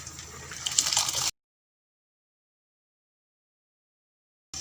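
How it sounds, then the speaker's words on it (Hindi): Rice tipped into a pot of boiling water for plain rice pulao, a brief hissing, bubbling splash lasting about a second before cutting to silence. "पानी बॉयल हो गया, अब हम इसमें चावल शामिल करेंगे।"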